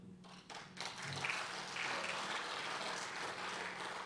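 A seated audience at a Shrimad Bhagwat Katha discourse in Raipur claps in a faint, distant, continuous patter that holds steady for the whole stretch.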